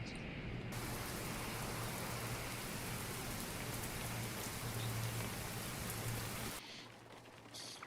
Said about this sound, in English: There's the rain as well now.